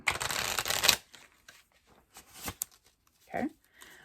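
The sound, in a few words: shuffling a deck of cards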